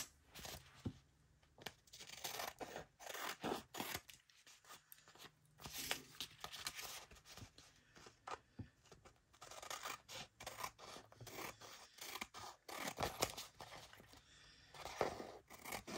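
Scissors cut through dried, glued paper in quiet close-up, a long run of soft irregular snips and crisp rasping cuts with brief pauses between strokes.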